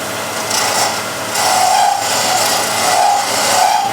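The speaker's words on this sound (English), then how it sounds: "So I'm going to use this as a scraper." A metal scraper is drawn lightly across turning wood, giving a steady close rasping hiss that swells and eases in a few long strokes.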